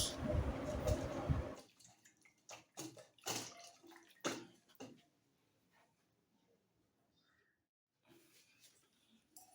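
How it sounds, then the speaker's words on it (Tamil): Water gushes loudly for a moment to wash fruit, then stops, followed by scattered drips, splashes and handling clatter. "தோசைப்பழம் தண்ணி ஊற்றி கழுவிக்கலாம்."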